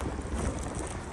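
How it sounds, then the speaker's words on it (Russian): Strong wind gusts roar through a heavy snowstorm, buffeting the microphone in a dense, continuous rush with no voices. "порывы ветра достигают большой силы"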